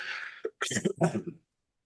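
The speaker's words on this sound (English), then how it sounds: "Please excuse my cough" A short series of rough, throaty coughs from a person with a cold rattles out close by, several quick bursts bunched together before falling silent.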